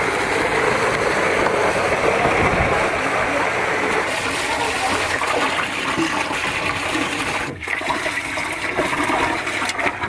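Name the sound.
water gushing out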